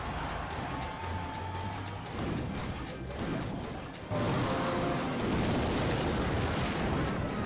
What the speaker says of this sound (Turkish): Efsane atış oldu roket atışı.